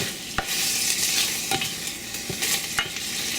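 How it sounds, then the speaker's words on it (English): Pork frying in its own fat gives a loud, continuous sizzle close by. Three or four sharp clacks of stirring break through it, and no one speaks. "you can hear that it's starting to fry in the fat"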